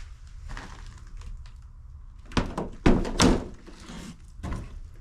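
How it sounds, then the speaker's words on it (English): An old door on an abandoned log cabin at a Wyoming homestead is pushed open, giving a few close, dull wooden thunks and creaks in quick succession over a quiet outdoor background. "Now this door is open."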